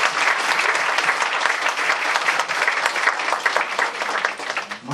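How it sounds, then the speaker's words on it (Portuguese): An audience applauds after a presentation at a Brazilian fiscal accounting seminar, a dense, sustained clapping from many hands with no voices. "pelas palmas, né, que foram assim, muito grandes ao meu respeito"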